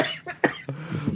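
A few short, rough coughs in quick succession, close and fairly soft.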